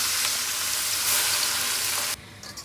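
Loud, close sizzling of chopped carrots, some previously frozen, and cabbage frying in a pan for noodles, a steady hiss that cuts off abruptly near the end, leaving a quieter, fainter sizzle.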